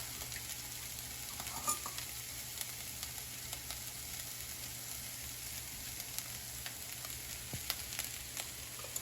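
Ground beef and potatoes with salt, black pepper, garlic powder and paprika frying in a skillet, a steady low sizzle with scattered light scrapes and taps of stirring, faint and free of speech.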